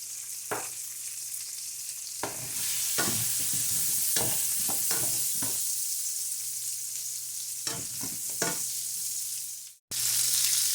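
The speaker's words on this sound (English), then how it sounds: "I'm going to slice up an onion and cook it over medium just to soak up some of that grease" Sliced onion with a pinch of salt frying over medium heat in leftover beef grease for a stew, a steady close sizzle broken by repeated scraping stirs, then a brief cutoff near the end.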